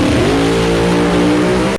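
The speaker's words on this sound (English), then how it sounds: "We just stomp the gas and take off like a real race car." A blower-equipped drag race car launches from the start line with a loud, close engine roar that climbs steadily in pitch, then cuts off abruptly.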